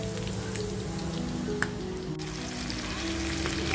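Squid rings deep fry in hot oil with a dense, even crackle and hiss, much like steady rain, heard close at moderate level with one brief tap, and no talk.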